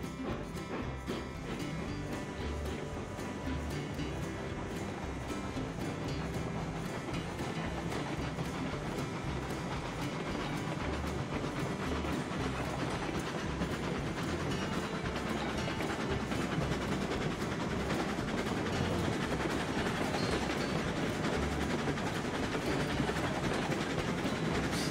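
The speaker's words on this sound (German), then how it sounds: "So, dann hätten wir den Zug auch einmal gedreht." Train running in the video game Railroads Online, a continuous loud rolling rumble with rhythmic clickety-clack of wheels on rails, steady for the whole stretch and alone without talk.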